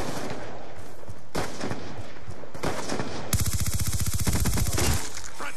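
A player fires from the rooftops in Black Ops 2, with separate loud bursts of gunfire followed by a long rapid automatic volley near the end, close and sharp.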